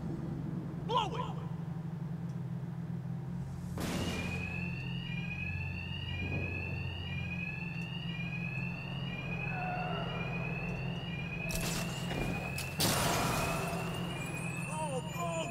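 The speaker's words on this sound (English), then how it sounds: "Two-Face's thugs won't hear me over the alarm." An alarm rings inside Batman: Arkham Knight during a break-in on Two-Face's thugs, a repeating electronic tone running through the scene alongside explosive bursts, heavy impacts and a low steady rumble, with characters speaking over it.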